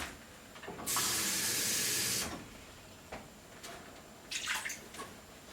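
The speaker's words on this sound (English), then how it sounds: "So we're going to put 2 to 3 cups of water" Two to three cups of water pour steadily for about a second and a half into an Instant Pot, then stop, followed by a few faint clinks and splashes in a quiet room.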